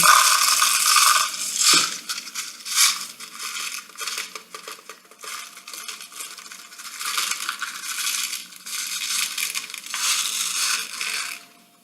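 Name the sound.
broken glass pieces being handled for a resin geode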